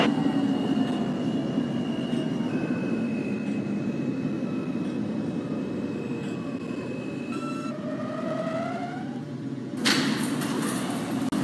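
An NYCT R160A Alstom F local subway train in the OpenBVE simulator hums along the track with rising and falling motor whine tones, a steady rumbling roll, and a sudden bright hiss near the end.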